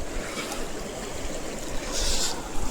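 Someone wades knee-deep through the Narmada river, water sloshing and swirling steadily nearby with a louder surge of splashing near the end, no speech.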